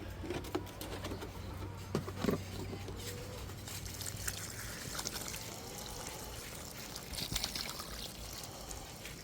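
Water poured out of gallon jugs onto a garden outdoors, a steady splashing trickle lasting several seconds, with bird coos and faint background sounds around it.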